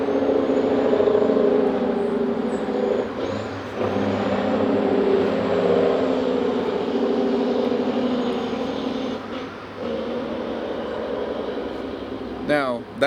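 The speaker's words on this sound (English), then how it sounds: "Now, that is a muffled Jake brake." A truck's muffled Jake brake gives a long, steady low rumbling drone that swells and eases over several seconds, heard from inside a vehicle under ongoing road noise.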